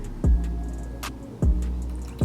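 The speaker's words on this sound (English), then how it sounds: "pour some water" Water is poured into a container in three separate splashy gulps, each a sharp plop followed by a fading slosh, close by and with no talking.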